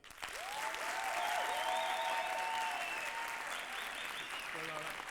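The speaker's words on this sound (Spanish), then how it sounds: "Aplausos para Leo DiCaprio" An audience at a gala applauds for Leo DiCaprio, sustained clapping throughout while a voice or music-like tone rises over the crowd.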